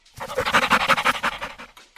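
An excited dog pants rapidly and close up, a fast run of breathy huffs in steady rhythm that builds and then trails off within two seconds.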